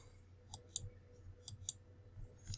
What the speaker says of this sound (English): I kept clicking it to move things around, to move things down